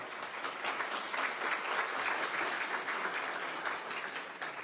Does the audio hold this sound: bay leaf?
no